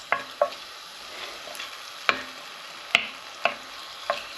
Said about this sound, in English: Get the lamb in there to start browning off.